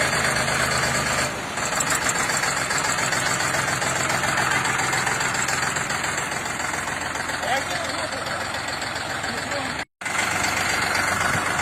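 A Europark 244 mini tractor engine idles during a test drive, a steady loud chugging rumble that continues with little change and briefly cuts out near the end, while people talk over it.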